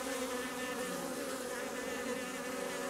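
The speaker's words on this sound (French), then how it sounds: "on voit une butineuse avec les pattes chargées de pelotes de pollen" Honeybees at the hive entrance, a dense, steady buzzing drone of many wings heard up close, with no breaks.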